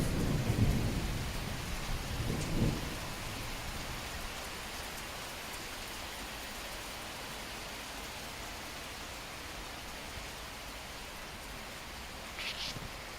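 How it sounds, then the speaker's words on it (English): Heavy rain pours down steadily in France during a motorcycle tour, a dense continuous hiss with a couple of low thunder rumbles near the start and no talk. "It is absolutely pouring down now."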